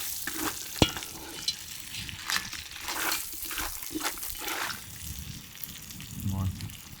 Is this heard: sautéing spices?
yes